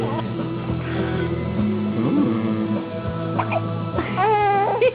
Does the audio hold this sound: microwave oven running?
no